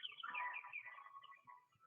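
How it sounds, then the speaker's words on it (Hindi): Birds chirp and call softly outdoors on a cool, breezy day, a steady, faint, continuous twittering with no voices over it. "आप चिड़ियों की आवाज सुन सकते हैं।"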